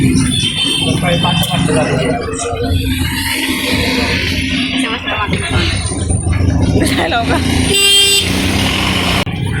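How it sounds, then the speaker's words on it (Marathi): Busy Mumbai traffic jam with engines and repeated car horns honking, including a sustained horn blast, under continuous nearby talking. "ट्रॅफिक जाम आहे जाम फुल"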